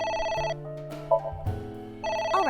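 A telephone rings in the video game AI: The Somnium Files. Two bursts of electronic ringing, near and loud, are separated by a gap with low tones and a brief chime, and no one talks.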